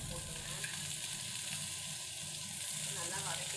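Green chillies and turkey berries sauté with onions in a pan, making a steady, fairly faint hiss of frying with soft stirring and no clear strokes, heard close and alone.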